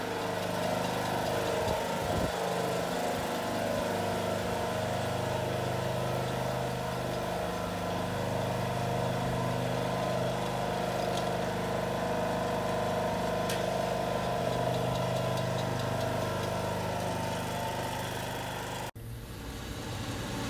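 A lawn mower runs steadily and loud throughout, a continuous motor drone that cuts off abruptly near the end.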